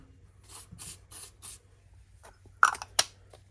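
Lubricant sprayed from an aerosol can while building an AK Cobra kit car, four short hissing bursts in a steady rhythm, close and clear, followed by faint clicks and scraping.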